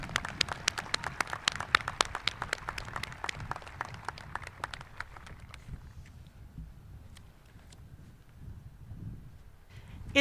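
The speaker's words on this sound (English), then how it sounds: "One more round of applause, please." Crowd applause at a Truman State University spring commencement, dense rapid clapping that thins out after about six seconds, leaving quiet room noise.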